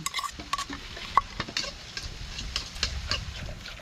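Fermented fish sauce (pla daek) simmering in a pot in a home kitchen, heard as a close, steady bubbling sizzle with light stirring scrapes and a few small utensil clicks, no talk.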